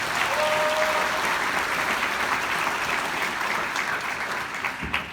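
Steady applause fills a university chemistry and biochemistry graduation ceremony, a crowd clapping evenly at moderate volume for the whole stretch with no pauses.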